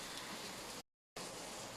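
Steady rain falls outdoors as a continuous broadband hiss, loud and close, with no talk. The sound cuts out abruptly for a moment and then resumes.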